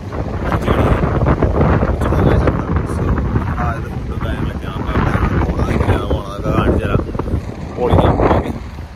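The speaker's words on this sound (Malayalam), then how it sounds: "നല്ല കാറ്റുണ്ട്, നല്ല നിലവാരമുണ്ട്, നല്ല ശക്തിയായിട്ട് എല്ലാം അടിക്കുന്നുണ്ട്" Strong wind at the Surfers Paradise beach on the Gold Coast buffets the microphone in loud, gusting rumbles that rise and fall throughout, with faint surf underneath.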